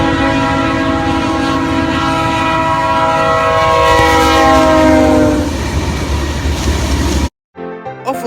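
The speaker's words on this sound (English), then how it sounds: "Overall, the K3L horn sounds really epic, but not as epic as the C-rails." A CN locomotive, a -9 unit numbered 2651, sounds its K3L horn in a loud, sustained chord for about five seconds, then gives way to rolling train rumble before the sound cuts off abruptly.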